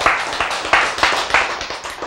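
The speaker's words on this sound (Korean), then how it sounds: "박수!" Congregation at a church sermon clapping together in a few loud, evenly spaced bursts, close by and with no talking over it.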